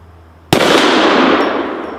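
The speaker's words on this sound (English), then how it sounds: "I'll shoot the hanging propane, or the hanging tank over there" A single loud Desert Eagle gunshot fired at a hanging propane tank outdoors, a sharp crack followed by a long rolling roar that slowly fades.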